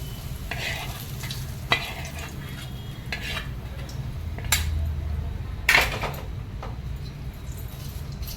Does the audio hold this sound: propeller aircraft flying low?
no